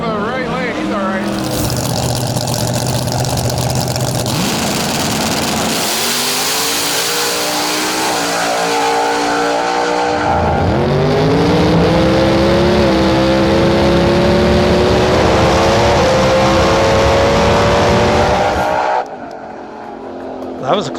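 A drag race car launches and roars down the strip with wheelie bars up, its engine note climbing loud and close for many seconds before cutting off abruptly, with spectators' voices and crowd noise mixed beneath.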